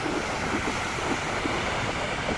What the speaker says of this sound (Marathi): सुंदर असा हा समुद्र आहे.